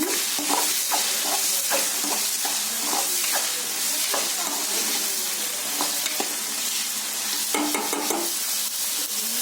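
Spatula scraping and stirring mushroom curry in a hot pan, repeated sharp scrapes over a constant sizzle of frying, close and loud with no talk.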